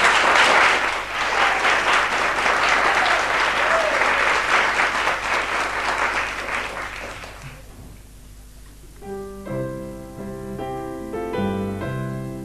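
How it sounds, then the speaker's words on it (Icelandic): An audience applauds for a little girl after her song at a 1995 Icelandic television show, dense clapping filling the first seven seconds before fading into a soft piano melody. "Við skulum klappa fyrir þessu litlu fallegu stúlku."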